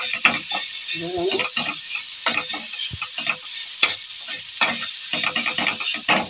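Potatoes, onions and spices cook in a pan with rhythmic, close stirring scrapes over a low sizzle, the strokes coming in quick irregular bursts with no talking.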